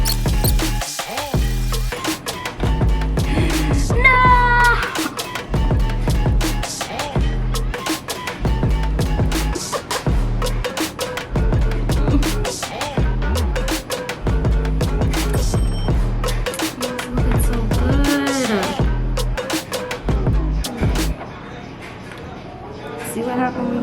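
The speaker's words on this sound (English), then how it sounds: "Lord be with me while I'm sewing" A sewing machine stitches bias tape onto a cropped corset top, running in a steady, close, fairly loud mechanical chatter of rapid clicks for about twenty seconds before easing off near the end.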